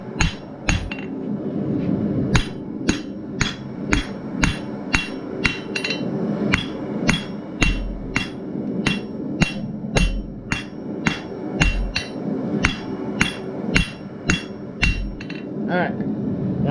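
Repeated hammer blows on hot metal as side cutters are forged into scrolling pliers at a blacksmith's anvil, a steady run of sharp ringing strikes with short pauses, close and loud throughout.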